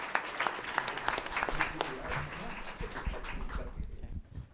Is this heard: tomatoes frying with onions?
no